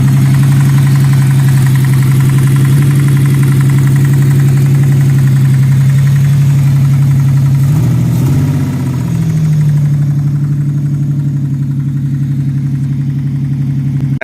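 A Lexus GS300 engine idles steadily and loudly after its spark plugs are cleaned. It holds a constant low hum with a brief wobble midway, like a slight misfire, then settles back to an even idle.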